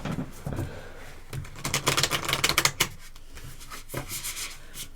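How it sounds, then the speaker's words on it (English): Oracle cards being shuffled up close, a quick rustling flurry of riffles and brushing that peaks, then settles into softer sliding. "Let me give it a couple more shuffles"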